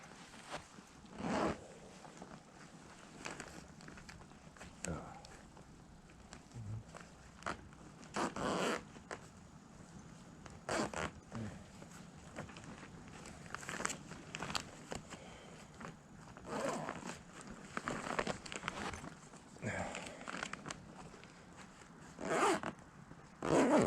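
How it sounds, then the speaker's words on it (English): A zipper on a homestead barn setup is zipped up and worked in a series of short, raspy pulls spread across the stretch, close and fairly quiet, with faint rustling between strokes and no talk. "So I'm gonna zip this back up"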